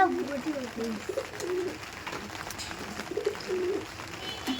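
A female Pakistani Chotiyal pigeon coos nearby in several soft, rolling phrases spaced across the moment, over a faint background hum.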